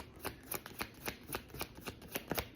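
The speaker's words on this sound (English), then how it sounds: "Why am I shuffling so long?" Tarot cards being shuffled, a quick rhythmic series of crisp riffling snaps repeating about every quarter second, close and fairly quiet with no talk.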